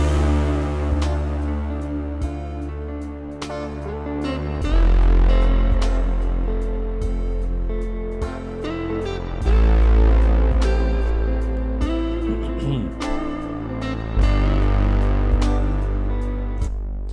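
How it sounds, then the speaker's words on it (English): A synthesized sawtooth bass with a sweeping filter plays a thick, sustained line of low notes over a beat with steady percussive hits, loud and up front with no talking. "So yeah, this is the bass sound."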